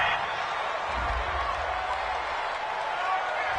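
Home crowd in a football video game cheers and applauds a penalty call, a steady broad roar with light clapping holding at even loudness throughout, no voices standing out.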